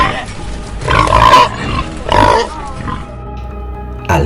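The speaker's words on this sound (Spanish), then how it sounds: "y el gruñido de los puercos" Pigs grunting and squealing in loud, rough bursts around the first and second seconds, then quieter snorts trailing off before a final short grunt.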